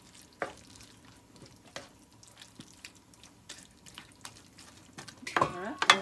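Philly cheesesteak meat cooks in a pan with a soft, steady sizzle, broken by occasional stirring scrapes and light clinks, with a louder clatter of the pan near the end.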